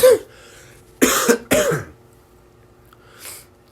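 A man coughs several times: one hoarse cough, then two harsh back-to-back coughs, followed by a softer throat-clearing sound near the end.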